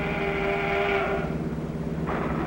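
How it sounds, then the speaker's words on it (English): A passing train sounds a whistle, a steady tonal blast over a low rumble that fades after about a second, heard from a road in farm country. "A train is coming."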